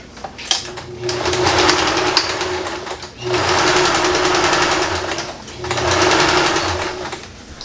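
A sewing machine runs in three sustained bursts, stitching a purse made from recycled denim jeans, with a steady motor whir and brief pauses between runs.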